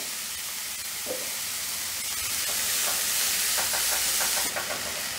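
Onion frying with a pinch of salt in a pan for Mumbai-style paneer bhurji, a steady soft sizzle and hiss with faint scraping touches, no voices.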